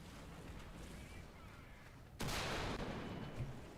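A Type 74 tank gun fires once in War Thunder, a sudden loud broadband blast that rings out and decays over a few seconds after a stretch of low engine rumble.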